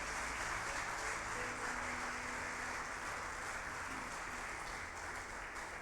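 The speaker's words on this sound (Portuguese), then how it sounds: "Você pode dar uma salva de palmas bem forte para Jesus?" A church congregation at a Portuguese-language service gives a faint, steady round of applause, a soft continuous patter of many hands that holds evenly throughout.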